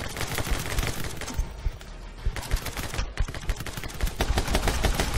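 Rapid gunfire in the video game My Friend Pedro, dense bursts of repeated shots firing almost continuously with brief gaps, loud and close throughout with no talking.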